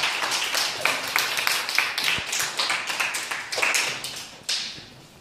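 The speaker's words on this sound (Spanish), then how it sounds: "Un aplauso para Sergio." A small group in a classroom setting claps, a sparse, uneven patter of individual hands with distinct sharp claps, fairly close, tapering off toward the end.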